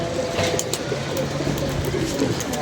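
Pigeons at a pigeon-keeping club, soft cooing and a flutter of wings under steady outdoor background noise, fairly close and continuous.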